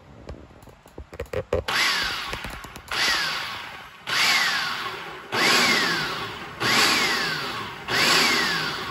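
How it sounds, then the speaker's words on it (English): A food processor pulses keto naan dough with yeast: a quick run of short motor taps, then about five loud, evenly spaced whirring bursts, each rising and cutting off sharply, close and alone. "I'm gonna pulse this all together to get it to mix up. It's gonna be loud."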